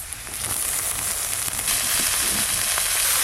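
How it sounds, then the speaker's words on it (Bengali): Bathua greens tossed into a pan of lightly fried chopped onions sizzle and hiss steadily, a close, continuous frying sound with no voices. "পেঁয়াজগুলো তো একটু ভাজা ভাজা হয়ে গেছে, কেটে ধুয়ে রাখা বেতো শাকগুলো এবার দিয়ে দেব।"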